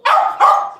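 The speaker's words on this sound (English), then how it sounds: "Yeah, there's a puppy there." A puppy gives two quick, high yipping barks, close and fairly loud, in a home setting.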